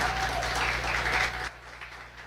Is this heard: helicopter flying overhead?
no